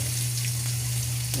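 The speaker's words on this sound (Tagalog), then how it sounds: "Yung karne, ayan. Piniprito ko muna." Pork frying in a pan for a breakfast dish, giving a steady, close sizzle with a continuous low hum underneath and no talk.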